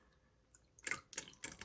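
Water squirts and squelches through a Montblanc 221 fountain pen as ink is flushed out during cleaning, three short wet spurts in a row, close and soft.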